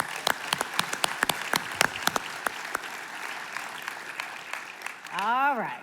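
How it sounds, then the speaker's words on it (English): Audience applause at a business hall of fame awards ceremony, with sharp distinct claps early that thin out into a softer wash, ending in a swelling rising tone. "Let's give another round of applause for Mr."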